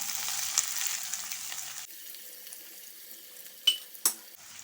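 Onions dropped into hot oil with half a teaspoon of cumin, a soft frying crackle that drops quieter partway, then a couple of sharp utensil clinks near the end, faint and close with no voices.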